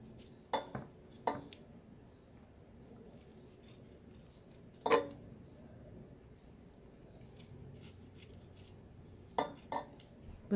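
A knife peels the skin off an orange for marmalade, giving sparse, crisp clicks and short scrapes up close against a quiet background, with long pauses between strokes.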